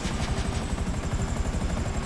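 An aircraft engine in GTA V drones loud and close, a continuous roar with a fast, even pulsing beat running throughout, alone without speech.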